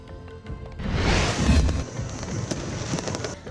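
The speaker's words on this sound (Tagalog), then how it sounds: "nagbantay ang mga Ilonggo sang Grand Fireworks display sa Iloilo Freedom Grandstand" New Year grand fireworks display at the Iloilo Freedom Grandstand in Iloilo City: a loud whooshing burst swells and fades, then scattered crackles and pops ring out against a distant rumbling background.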